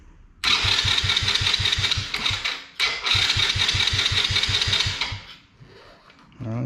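A 125cc ATV with electrical, oil leak and fuel flow problems cranks over loudly up close in two rhythmic starter bursts, each a rapid pulsing chug, separated by a brief pause, with the engine catching briefly at the end.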